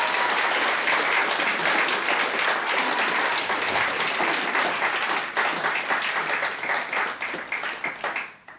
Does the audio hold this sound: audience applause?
yes